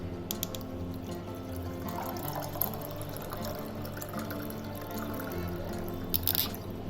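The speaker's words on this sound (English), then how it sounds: "pour the iced tea." Iced tea trickles steadily into a glass, a soft continuous liquid pour with faint splashes and a few brief clinks, no voices.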